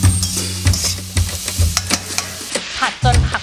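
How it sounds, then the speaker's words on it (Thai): Onion and carrot stir-frying in hot oil in a pan, a loud close sizzle with a rhythmic series of spatula scrapes and knocks against the pan, no voices. "เสร็จแล้วเราก็ผัดหัวหอมกับแครอทค่ะ"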